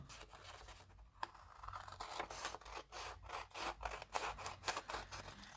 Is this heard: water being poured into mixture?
no